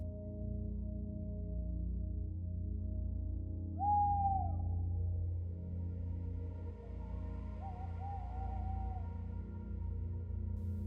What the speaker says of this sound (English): Far off, an owl calls,